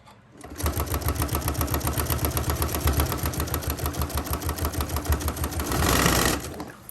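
A sewing machine stitches down a fabric zipper pouch in a fast, steady mechanical chatter that runs continuously and close by, with a slightly louder burst near the end before it stops.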